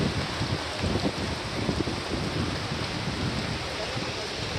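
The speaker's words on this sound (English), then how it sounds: "I've never seen rain on lake before" Heavy rain and gusting wind batter a lake in Mexico during a storm, producing a dense, steady hiss with low rumbling gusts close by.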